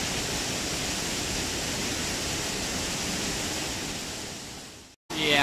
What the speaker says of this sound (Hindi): ये है हमारा वाटरफॉल।